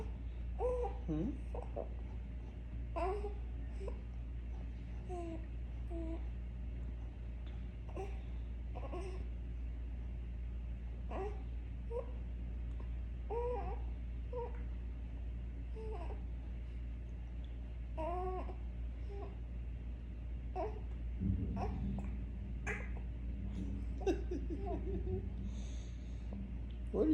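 A baby girl babbles and makes playful funny noises with snorts, breathy wheezes and squeals, in short bursts throughout at close range, with an adult's soft voice occasionally in the background.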